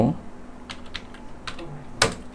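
A computer keyboard being typed on in short, quiet bursts of a few keystrokes each, with small pauses between them and a slightly louder final key press.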